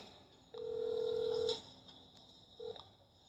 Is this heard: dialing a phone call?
yes